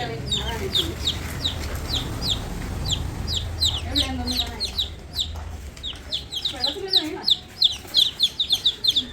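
Chickens and small chicks clucking and cheeping around a rural home yard, a steady stream of high peeping calls with repeated louder clucks close by.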